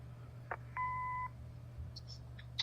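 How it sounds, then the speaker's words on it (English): A single steady electronic answering-machine beep in a video game lasts about half a second, framed by faint clicks over a low hum. "Leave a message after the beep."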